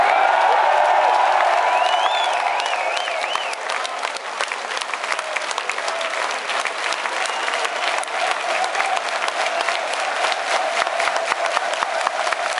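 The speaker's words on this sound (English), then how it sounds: "the welcome you're giving us, you know, headbanging, clapping your hands" A crowd at a metal concert in Stuttgart's LKA hall applauds, whistles and cheers in a dense, sustained roar of clapping that fills the whole stretch, loudest at the start and then holding steady.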